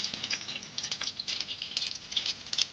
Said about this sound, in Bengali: এখন ভাজা চলছে।